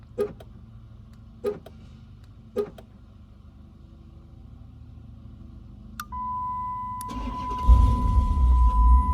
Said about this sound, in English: So to start the car, you're going to hit your lock button 3 times.